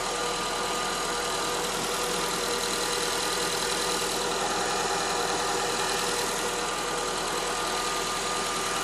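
2009 Honda Accord engine running steadily after repairs, a continuous even drone with faint ticking and vibration, close by with no talk over it.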